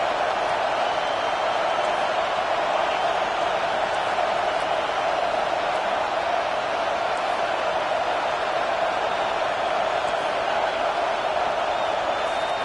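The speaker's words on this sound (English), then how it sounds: "Decibels rising as the crowd gets behind this defense on third down." A football stadium crowd roars on third down, a steady, dense wall of noise that holds unbroken at the same level throughout with no breaks.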